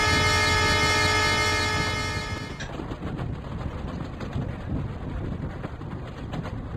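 Simulated Indian passenger train in Indian Train Sim 24 sounds a sustained horn for over two seconds, then rolls on with a steady rumble and clatter of wheels on rails.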